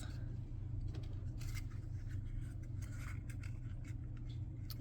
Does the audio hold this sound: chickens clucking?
no